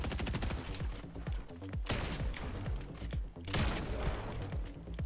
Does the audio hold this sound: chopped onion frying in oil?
no